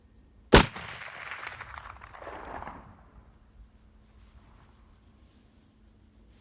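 A muzzleloader rifle fires a single loud, sharp shot, followed by a rolling echo that fades over about two seconds, then quiet.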